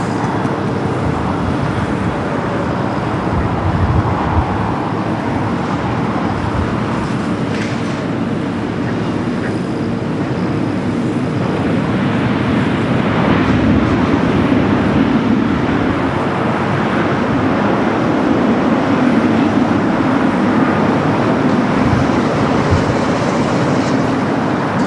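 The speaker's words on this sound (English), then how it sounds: "This is the Japan Airlines A350-1000, the flight coming from Tokyo Haneda." Japan Airlines Airbus A350-1000 jet in from Tokyo Haneda at Los Angeles International Airport, a steady loud broadband roar that swells slightly and holds throughout, with no talk over it.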